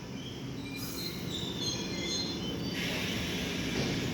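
A London Underground Piccadilly line train runs toward Cockfosters, heard from on board as a loud steady rumble with wheel squeal and hiss, and no talking.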